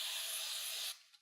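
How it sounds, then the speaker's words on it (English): Non-chlorinated brake cleaner sprayed from an aerosol can onto a paper towel, a steady close hiss for about a second that cuts off abruptly, leaving a brief faint tail. "You can spray it onto the surface of a paper towel or a rag just to remove the mold release agent"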